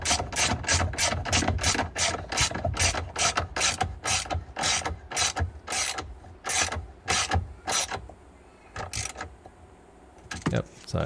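A hand ratchet tightening the battery hold-down bolt on a Toyota RAV4, fast rhythmic clicking strokes in quick bursts, close and crisp, slowing into separate clicks near the end.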